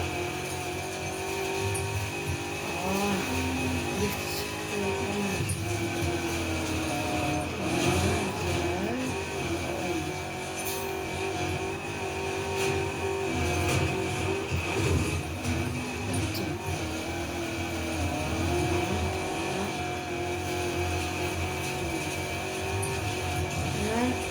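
A rice-style car in the video game Need for Speed drifting, with a steady, droning engine roar rising and falling in pitch and occasional tire squeal, continuous and close throughout.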